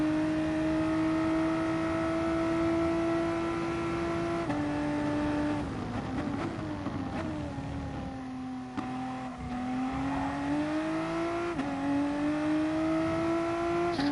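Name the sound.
race car engine driving in a racing video game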